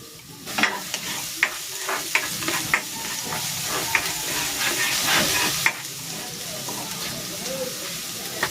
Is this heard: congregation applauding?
no